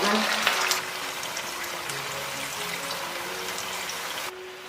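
A sauce with ginger, scallion and garlic heats in a pan beside frying fish, giving a dense, continuous close sizzle with a louder burst at the start and a faint tonal hum underneath.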